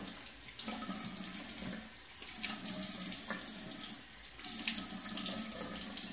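Water runs steadily from a bathroom tap into a sink while someone rinses a face mask off their face, a continuous close splashing rush with small surges and no speech.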